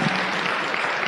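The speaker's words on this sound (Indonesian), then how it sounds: "Jadi kita beri tepuk tangan buat Anda semua, ya." A seminar audience of businesspeople gives a short burst of dense clapping, fairly loud and steady through the brief moment without speech over it.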